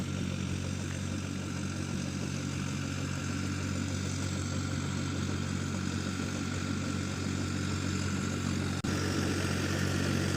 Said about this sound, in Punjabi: ਦੇਖੋ ਨਾ ਟਰੈਕਟਰ ਆਉਂਦਾ 36 ਦਾ